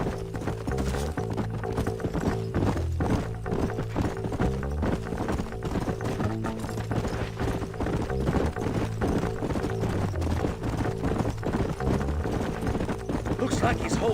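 Horse hooves clip-clop in a steady, rhythmic trot in the video game Red Dead Redemption, running throughout beneath game music and voices.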